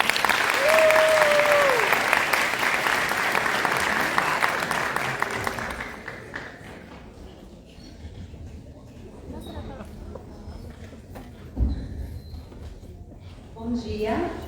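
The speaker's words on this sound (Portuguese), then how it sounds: "Uma salva de palmas para a Patrícia." An audience gives the speaker Patrícia a burst of applause, loud and dense at first, then thinning out and fading, followed by scattered room noise and a few brief sounds.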